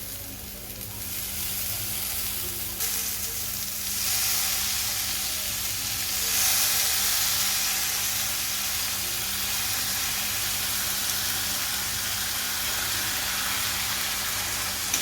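Chopped tomatoes sautéing in a pan for chickpea curry, a steady broad sizzle and hiss that holds evenly throughout, with faint occasional stirring scrapes and no talk.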